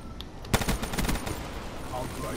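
Rapid automatic gunfire in Black Ops 3 Infected mode, a dense burst of close shots after a short lull, with faint voices in the background.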